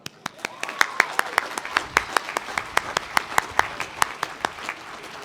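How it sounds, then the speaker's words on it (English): An audience claps for painter Samuel Slaughter at an outdoor ground-breaking ceremony in Auckland, a steady burst of many hands close by that keeps an even rhythm for several seconds. "can we please have a quick round of applause for Samuel?"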